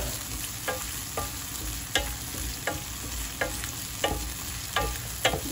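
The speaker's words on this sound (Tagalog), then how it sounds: "Bigisa natin yung ating sibuyas. May butter na yan." Onion sautéing in butter in a pan, a steady close sizzle with regular scraping stirs every half second or so, no voices.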